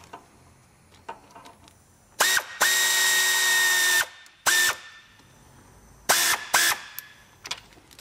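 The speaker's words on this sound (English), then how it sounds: "I'm going to use my 1/4-inch air ratchet and another wobbly socket" A 1/4-inch air ratchet fitted with a wobbly socket, working on a car cooling system, sounds in several short loud bursts of whirring and clicking, including one sustained run of over a second, separated by quiet pauses.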